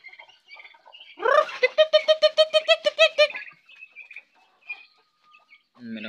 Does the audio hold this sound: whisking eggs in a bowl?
no